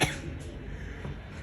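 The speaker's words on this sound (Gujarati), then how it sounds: "એને ઉધરસ થઈ ગઈ, જો ને બિચારા ખા ખા ઈ કરે છે." A single short cough bursts out at the start, followed by a brief rough throat sound, close and fairly loud with no talking.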